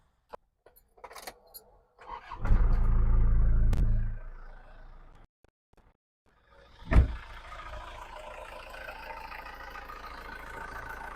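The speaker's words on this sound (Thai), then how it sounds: "เดี๋ยวสตาร์ทเสียงเครื่องให้ฟัง" Small clicks and a rattle, then an Isuzu D-Max Dragon Power 2.5 pickup's diesel engine briefly roars and cuts out. It starts again and settles into a steady, low diesel idle.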